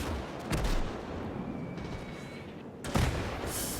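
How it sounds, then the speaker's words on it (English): Naval artillery fire pounding a hill in a WW2 Battle of Saipan video game, heard as a steady rumbling barrage with two louder booming blasts, one early and one near the end, over continuous low noise. "All right, we got that naval fire. We're going to hit that damn hill."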